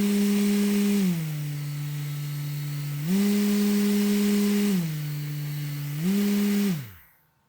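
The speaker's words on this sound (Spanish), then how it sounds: "Ahí se nota más la variación de la velocidad del motor." A small electric motor driven through a 555-timer speed regulator circuit, whining steadily and alternating between higher and lower pitch as the speed is raised and lowered, then spinning down and stopping at the end; no voices.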